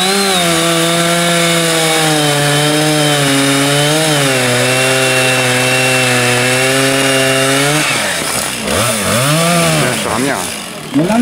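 A lumberjack cuts wood with a chainsaw, the engine droning loud and steady with pitch dips, then bogging and revving unevenly as the chain bites in near the end; someone talks faintly underneath.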